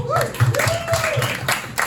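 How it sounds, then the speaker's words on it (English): A comedy club crowd at a winery claps in scattered bursts, fairly close, with a voice speaking over the applause. "Let me hear by applause."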